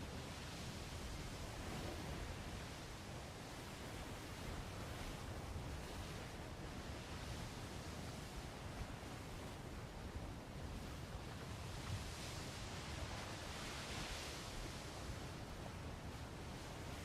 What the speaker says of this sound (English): I think that wind was shifting too.